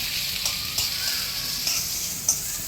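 Medium-chopped onions frying in a pan for a dosa filling, a steady bright sizzle with a few sharper crackles and stirring scrapes, continuous and close with no talking.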